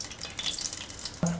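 Garlic sizzling in hot oil in a pan for a dal tempering, a steady crackling fry with a sudden louder burst right at the end.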